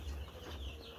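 Day-old chicks or young poultry clucking and peeping steadily in a brooder, a close continuous chorus of small bird calls over a low hum, with no talk.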